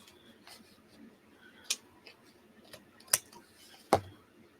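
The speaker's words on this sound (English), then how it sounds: "Go down, snip all of these little ends off" Scissors snip off small thread ends in a handful of separate, sharp, close clicks spaced a second or so apart over a quiet background.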